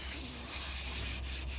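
Sanding spilled epoxy resin off a boat's wooden toe rails, a steady close abrasive rubbing that continues without a break and stays fairly quiet, with no talking.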